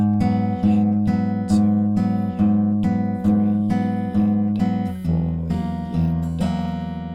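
Fingerpicked guitar plays the verse and pre-chorus riff of a song, with an open low string and paired higher strings plucked in an even, ringing pattern, clear and close with no voice.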